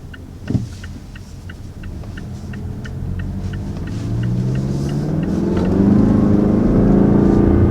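A 2019 Mazda CX-5 with a turbo engine pulls away from a stop, its rumble swelling and rising steadily in pitch as it accelerates, heard from inside the cabin with no talk.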